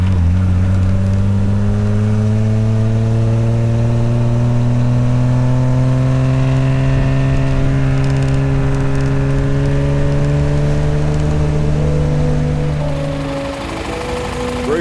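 A vintage car driving on rugged South Island roads in New Zealand, a close, steady engine hum with clear pitch rising as it accelerates through the gears, easing off and fading slightly at the end.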